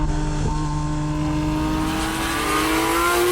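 A Porsche 991 Gen 1 GT3 engine pulls steadily while driving, a loud, close, smooth mechanical drone with rising tonal harmonics as revs climb, heard from inside the car without talk.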